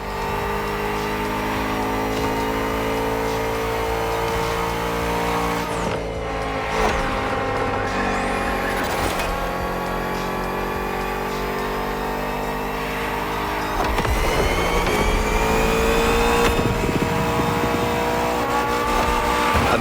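A Bugatti Vision GT hypercar in the racing game The Crew Motorfest drives with a loud, continuous engine drone, rising and falling through revs and gear changes, with occasional tire squeal and louder bursts of acceleration near the end.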